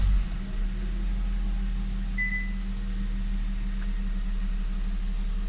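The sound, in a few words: Kia Sportage 2020 engine starting and idling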